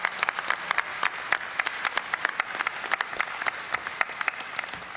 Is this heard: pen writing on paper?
no